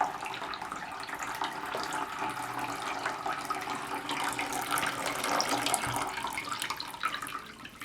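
A soap and plant-food water mixture is poured steadily onto a potted orchid, making a continuous close splashing, trickling stream that holds at even loudness for several seconds, with no talking.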